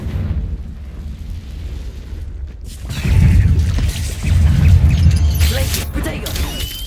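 The Confringo blasting spell explodes in Hogwarts Legacy as a heavy, rumbling boom that swells, dips and surges again, loud and close, with crackling debris and some talk underneath.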